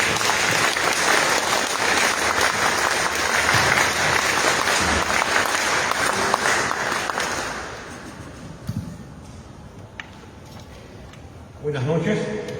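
Audience applause in a university hall during an APRA centenary event, loud and dense for about eight seconds before fading out, followed by a brief lull and then a voice.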